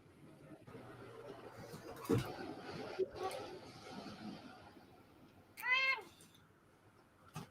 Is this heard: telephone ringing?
no